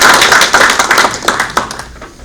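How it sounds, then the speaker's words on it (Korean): An audience at a defense forum claps, a quick burst of hand applause that starts strong and tapers off over about two seconds. "박수로 모시도록 하겠습니다"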